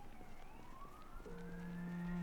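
Fire department vehicle siren from a fire truck approaching through a city crossing near a hospital and fire station, a rising, sweeping wail that grows louder and steadier as it nears, with no talking.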